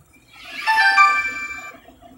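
A mobile phone rings with an incoming call from a brother, a bright electronic ringtone that swells in clearly and holds for about a second before fading, with no talking over it.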